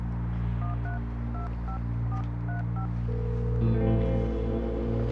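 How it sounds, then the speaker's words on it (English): A telephone is dialed for a call: a run of short DTMF keypad beeps pulses in a quick irregular rhythm over a steady low hum, followed by a longer ringing tone, with no talking. "I have to make a phone call for work"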